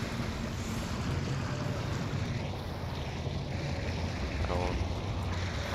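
Steady rushing water and broadband noise fill the inside of a submarine in the Barotrauma video game, a continuous wash with a brief rattling sound near the end and no clear speech.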